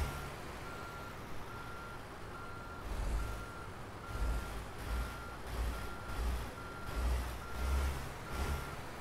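A truck in the American Truck Simulator game gives steady, evenly spaced reversing beeps while backing a trailer, over a low rumbling engine that swells now and then.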